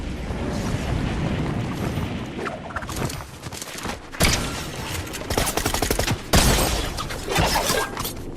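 Pump shotgun blasts in a video game battle royale match, several loud sharp reports with a dense crackling wash of gunfire and shattering between them, fairly close and busy throughout.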